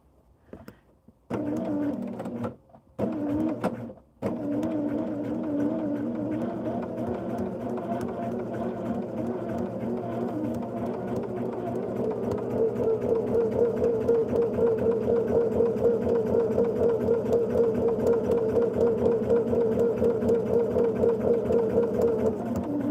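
A sewing machine runs steadily while stitching a quilt block, a close, even mechanical whir that picks up speed and grows a little louder toward the end after a few brief starts and stops.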